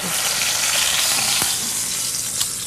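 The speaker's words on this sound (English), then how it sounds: "enough to really give it a crust and sear it" Meat searing in a hot pan gives off a loud, constant hiss of frying fat with a couple of faint taps near the end, and no talk over it.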